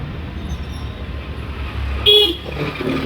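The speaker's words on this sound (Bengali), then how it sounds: "এখানে হাইওয়ে তো, বাসন্তী হাইওয়ে, তো গাড়ি যাচ্ছে খুব জোরে জোরে" Fast traffic passing on the Basanti highway: a continuous road rumble with one loud vehicle horn toot near the end, heard from the roadside.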